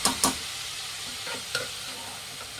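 Boiled Kabul chana and cabbage stirred into a palya frying in a pan, a soft steady sizzle with a few spoon scrapes and knocks against the pan, close and fairly quiet.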